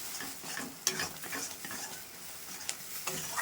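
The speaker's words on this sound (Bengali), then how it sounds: "সেদ্ধ ডালটা একটু নাড়িয়ে চাড়িয়ে নেব" A spoon scrapes and stirs boiled lentils with tomatoes in a pan, giving soft, irregular scraping with a faint sizzle and a couple of sharp clinks against the metal, fairly quiet and close.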